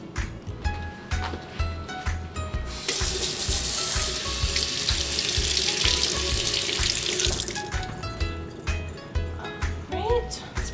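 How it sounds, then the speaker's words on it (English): Tap water runs in a steady stream over strawberries being rinsed in a sink, rising to a full rush for several seconds before easing off, with a voice talking over it throughout. "grab a few strawberries and rinse them off"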